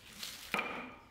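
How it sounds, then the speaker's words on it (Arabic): A knife chops once through warm homemade sesame brittle, a single crisp crack near and alone, followed by a short fading ring. "وهي دافية بنقطعها. بناخدها بالسكين من الأطراف"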